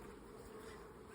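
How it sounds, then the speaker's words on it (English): Italian honeybees buzz steadily at an open hive during an inspection, a soft continuous hum from many insects close by. "Busy bees. Busy bees."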